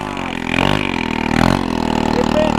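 A scooter engine, one modified to resemble an airplane, runs steadily at close range with a droning tone that swells and revs slightly a couple of times, with no talk over it.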